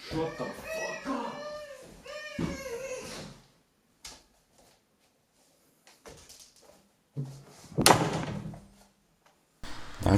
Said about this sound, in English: it's the sound of opening and closing a door